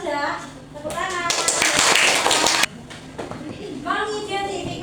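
Fifth-grade pupils in a classroom clap their hands together in a loud, brisk burst of rapid clapping lasting over a second, with children's and a teacher's voices talking before and after.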